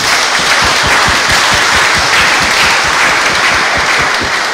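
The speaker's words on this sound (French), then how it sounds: "Je vous demande de l'applaudir." A parish congregation at Sunday Mass in the church of St Michel de Matoury applauds a visiting woman, a loud, close and sustained burst of many hands with audible rhythmic clapping near the front.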